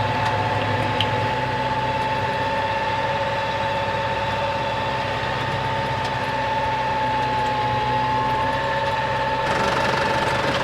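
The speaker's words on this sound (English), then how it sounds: "I'm just going to leave the tractor parked there a minute. It's running" A parked farm tractor left running, its engine idling with a steady low drone and a constant tonal hum, close and continuous with no voices.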